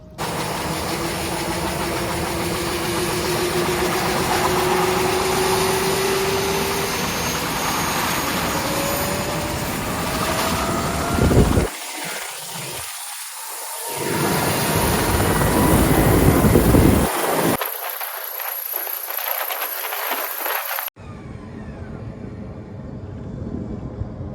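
Loud, continuous roar of an air ambulance helicopter's turbines running at power during a power check, with whining tones and abrupt cuts between sections.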